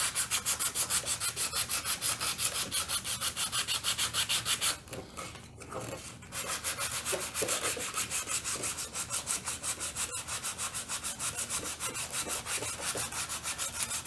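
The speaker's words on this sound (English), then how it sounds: "Clean the surface of iron by rubbing it from sandpaper." A sample of iron has its surface scrubbed with sandpaper, producing a steady fast back-and-forth rasping that runs for the whole stretch. The strokes are loud and close, with a brief dip in the middle, and nobody speaks.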